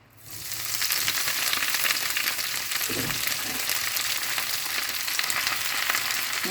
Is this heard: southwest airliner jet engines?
no